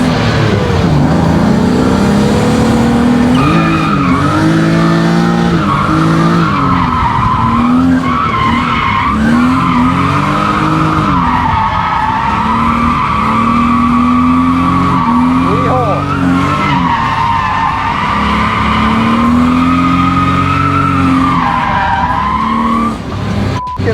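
A BMW E36 with a six-speed gearbox swap drifts on track, its engine droning loud and steady with sustained tire squeal rising and falling throughout, voices faint beneath.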